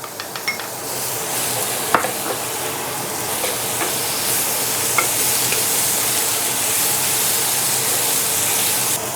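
Broccoli, ginger and garlic stir-frying in a pan, giving a steady loud sizzle with occasional scrapes and clinks of a utensil against the pan near the start.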